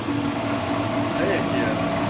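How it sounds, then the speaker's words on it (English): A metal shaper machine runs steadily after its electric clutch is engaged, giving a continuous mechanical hum with a low tonal drone, close and constant throughout with no speech. "This right here is the electric clutch. When I pull this up, this should move forward."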